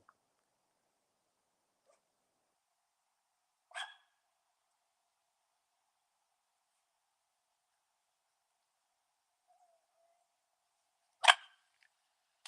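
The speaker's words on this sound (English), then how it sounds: "The dog is barking at the door because he wants to go in." A dog barks at a door: two short, isolated barks several seconds apart in an otherwise quiet room, fairly faint and slightly distant.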